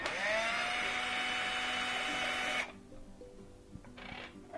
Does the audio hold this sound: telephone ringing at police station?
no